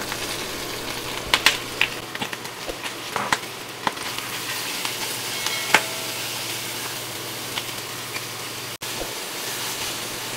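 Tomatoes frying with garlic in a pan give a soft, steady sizzle with faint crackles and pops throughout, close and quiet, with no talking.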